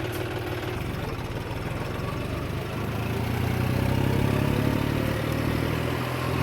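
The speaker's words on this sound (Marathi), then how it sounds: "ट्रॅक्टरची जी ती रेस फक्त 21-22पर्यंत जाते, याच्यावर जात नाही." A John Deere tractor engine revs with a steady low rumble and clatter, building slightly louder midway and holding, with no talk over it.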